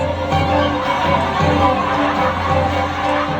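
A large crowd cheers and claps loudly and continuously, a dense roar of voices and hands with no pauses.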